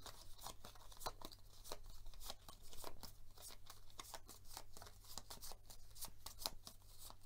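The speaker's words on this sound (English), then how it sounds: "I'm going to shuffle this." A deck of Aeon's End cards is shuffled on a table, giving a steady run of crisp riffling and flicking snaps close by with no talk.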